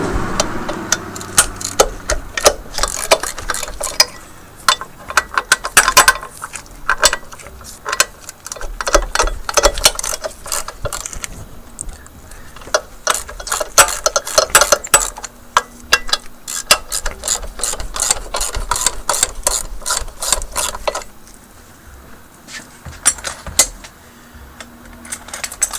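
Ratchet wrench turning 14 mm bolts, long runs of loud, rapid pawl clicking close up, broken by short pauses and repositioning, no talking.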